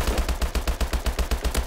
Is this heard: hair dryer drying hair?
no